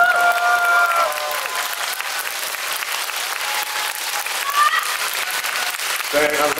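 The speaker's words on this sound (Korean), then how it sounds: "큰 박수 다시 한번 부탁드릴게요." Sustained applause from a large audience at the opening ceremony of a cinema hall named for actor Lee Byung-hun in Seongnam, filling the room steadily for about six seconds before cutting off, with a voice briefly at the very end.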